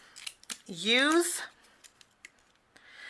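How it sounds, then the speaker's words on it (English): Zigzag scissors slice through a white strip of paper in one drawn-out crunching cut, close and clear, with a few light clicks of the blades around it while someone talks. "we'll break out your zigzag scissors"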